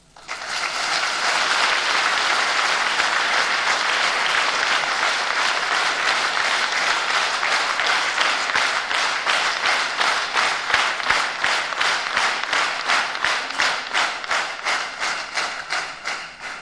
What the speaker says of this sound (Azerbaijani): Əgər geriyə bu salona qayıtdınızsa, bu səsi bir də alqışlayın